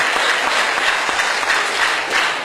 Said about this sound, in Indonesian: Tepuk tangan untuk pemerintah, insya Allah.